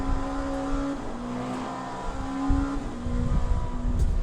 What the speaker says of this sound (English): the GTE RSR is one of the best sounding race cars